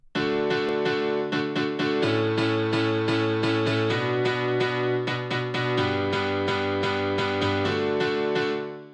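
Sustained piano chords layered together for a progressive house drop, a steady stack of notes changing every couple of seconds with bright repeated attacks, full and loud throughout.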